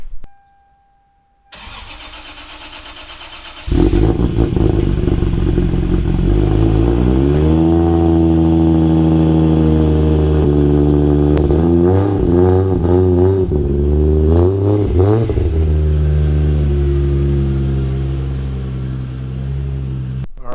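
A 1000hp Nissan 300ZX with a swapped 2JZ engine cranks and starts, then idles with a deep, steady rumble and several revs rising and falling, loud and close throughout.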